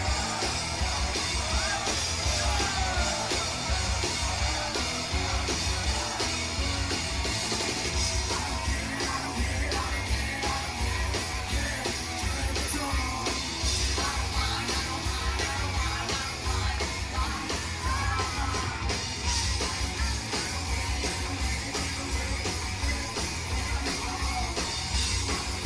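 A big concert crowd in Argentina roars, yells and whoops without pause, a dense, steady wall of cheering with no break.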